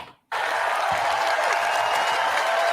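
Applause erupts abruptly after a brief quiet moment, a dense steady clapping from a small audience, loud and sustained until the end.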